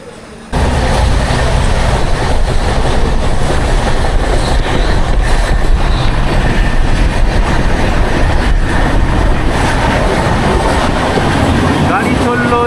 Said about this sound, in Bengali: এখন নিউ জলপাইগুড়ি স্টেশনে ট্রেন এসে দাঁড়ালো।